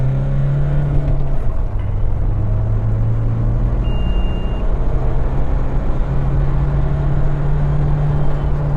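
Mahindra Scorpio Classic SUV driving and making a U-turn, a steady loud engine and road rumble throughout with a low drone from inside the cabin.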